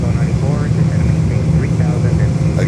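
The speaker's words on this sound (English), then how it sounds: "A gear up Cessna." A retractable-gear Cessna light aircraft passes at Fort Lauderdale airport, its engine drone steady and loud throughout with a low rumbling hum; background voices are faintly audible.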